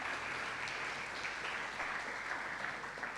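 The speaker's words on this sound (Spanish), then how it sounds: "¿No se merece un aplauso el Señor?" A church congregation applauding together, a steady even wash of clapping with no breaks, moderately loud and filling the room throughout.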